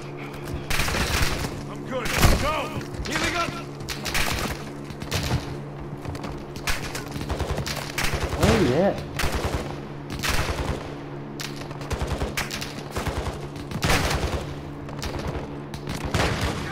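Call of Duty: Modern Warfare II gunfire, with bursts of automatic rifle shots and scattered single cracks repeating across the stretch, loud and close, while voices talk over the fighting.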